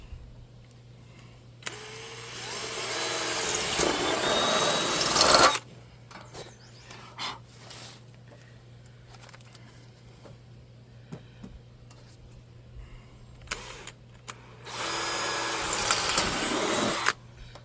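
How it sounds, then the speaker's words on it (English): Harsh, grinding drill noise while drilling into stainless steel for an RV slide wall repair, in two bursts of a few seconds each, separated by quieter clicks and handling sounds, with a steady low hum throughout. "drilling in the stainless steel isn't all that easy"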